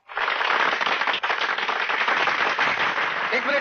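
Dense burst of audience applause in a film scene, loud and sustained clapping from many hands that starts abruptly and continues without a break.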